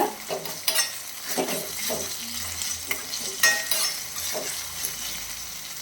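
Curry leaves frying in oil in a pan, stirred in repeated scraping strokes over a crackling sizzle, close and fairly loud.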